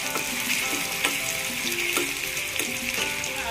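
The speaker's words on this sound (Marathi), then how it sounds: "तेलामध्ये आपण हे बघा कांदा घालून घेऊया।" Onion and curry leaves fry in hot oil, giving a dense, continuous sizzle with a few soft stirring taps, close and fairly loud.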